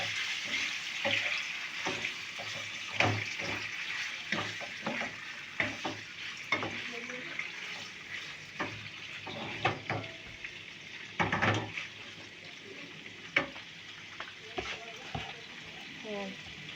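Chicken gizzards fry in a pan with a steady sizzle, broken by repeated scraping stirs and clatters of the utensil against the pan, while a person talks over the cooking.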